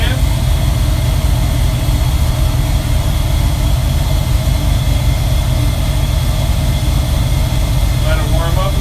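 A boosted Ford Motorsport 401 cubic inch aluminum engine runs at a steady idle while warming up, a loud, continuous throbbing rumble with no break.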